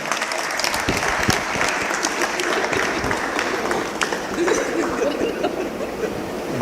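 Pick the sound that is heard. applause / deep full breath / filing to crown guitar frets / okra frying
applause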